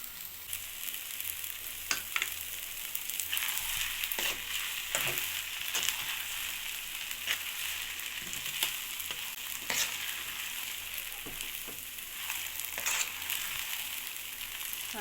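Semi upma cooks in a pan after coriander leaves are added, giving a steady close sizzle and crackle with occasional scraping stirs, and no one speaking.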